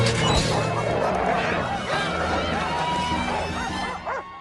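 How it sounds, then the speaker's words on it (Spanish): Several dogs bark and yip loudly and continuously, with whimpering mixed in, forming a dense, chaotic chorus that stays close and fills the short stretch. "Suelte a los perros."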